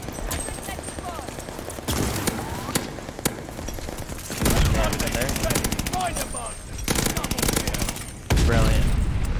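Automaton rifle gunfire in the video game Call of Duty Vanguard, rapid automatic bursts crackling loudly and almost nonstop, mixed with game effects and occasional speech.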